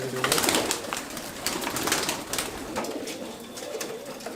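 Madrasi pigeons coo softly amid rustling and flapping, a faint low murmur repeating under broadband noise, fairly close but quiet.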